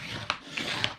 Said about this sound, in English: So then I am going to fold and burnish